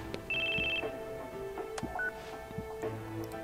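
A phone rings in the video game Crisis Core: a short, fairly faint electronic tone sounds early on, over a quiet background of game sounds and soft clicks.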